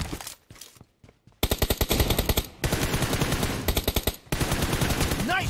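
Gunfire in the mobile battle royale game PUBG Mobile: a few scattered shots, then long rhythmic bursts of rapid automatic fire, loud and up close with brief pauses between volleys.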